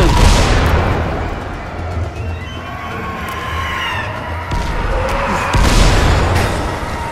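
Mines blowing up in the zombie video game Dying Light: The Following, a run of deep booming blasts rolling over a dense, noisy game mix, with a faint voice murmuring underneath.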